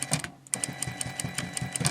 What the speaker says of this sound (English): I have an industrial machine, so it kind of freaking goes through everything.